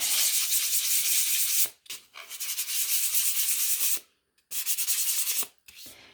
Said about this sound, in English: so I'm just going to give this a sand